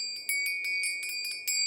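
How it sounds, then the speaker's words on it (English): A small hand bell rung in a fairy ritual gives a rapid run of bright, close metallic tings with sustained ringing overtones, several strikes in quick succession across the whole stretch. "a bell."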